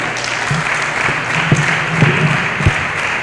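Conference audience applauds in a steady wash of clapping, with a few sharper individual claps standing out near the microphone.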